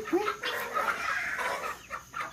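Backyard chickens clucking at close range while being fed, with a short rising call near the start and a few soft clucks scattered through a steady murmur of hens.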